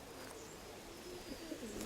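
Soft pigeon cooing rises faintly over steady outdoor background noise, a few low murmuring coos toward the end.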